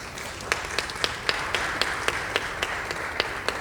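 Sparse, evenly spaced hand claps from an audience at a plenary assembly of defenders, each crack distinct over a soft room background, going on steadily for a few seconds.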